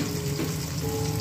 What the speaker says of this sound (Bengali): এখন মাছটা ভাজবো